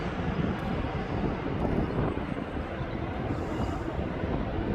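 A jet aircraft rumbles at East Midlands Airport, a broad, steady roar of engine noise with wind buffeting the microphone and no clear change in distance.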